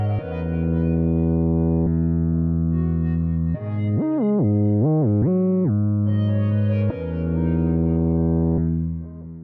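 A Surge XT synth lead on the Fog preset plays a melodic line of sustained, harmonically rich tones with a rapid sliding, pitch-bending passage in the middle, loud and upfront without any talking.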